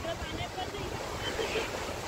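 Sea water washes onto Arnala beach in a steady, broad wash of surf and wind noise, fairly close, with faint voices in the background.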